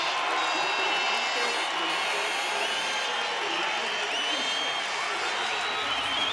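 Large arena crowd cheering and roaring as the women's 400m freestyle final is introduced at the 2009 FINA World Swimming Championships, a dense sustained wash of noise with whistles, loud and continuous.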